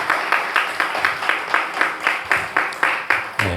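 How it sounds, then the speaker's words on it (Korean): An audience at a book concert applauds in a steady, rhythmic clapping of about a dozen even beats, loud and continuous, welcoming guests onto the stage with no talk over it. "큰 박수로 맞이해 주시기 바라겠습니다."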